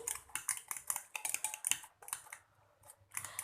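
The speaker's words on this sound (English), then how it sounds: "So whisk it neatly." Eggs whisked for an omelette in a bowl, a quick run of light clinking, tapping strokes with brief pauses, close and fairly soft.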